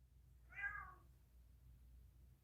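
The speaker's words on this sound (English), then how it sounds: "Mickey is out here meowing because Mickey wants to be fed" A cat named Mickey gives a single drawn-out meow, wanting to be fed, fairly faint and set a little apart against a low steady background hum.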